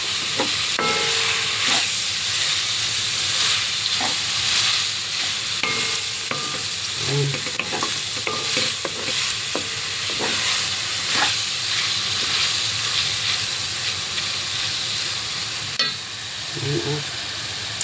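Minced Australian beef sizzles and fries steadily in a pan for spaghetti bolognese, with a constant hiss broken by scattered stirring scrapes and clicks. It sounds close and carries on without pause.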